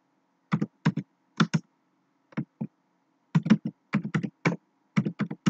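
Typing on a computer keyboard while searching the web, heard as quick bursts of close, crisp key clicks in irregular clusters separated by short pauses, with no talk.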